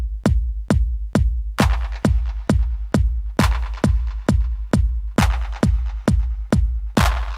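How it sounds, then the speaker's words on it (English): An electronic clap layered over a deep, booming kick drum in an electro track, the two hits repeating in a tight, steady rhythm, loud and dry with no voices. "bringing in our clap."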